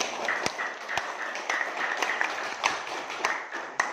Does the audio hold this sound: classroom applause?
yes